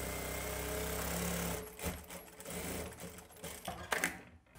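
Sewing machine stitching the folded side border of a saree, a steady dense mechanical whir for about a second and a half, then continuing in choppier, uneven bursts of needle chatter to the end.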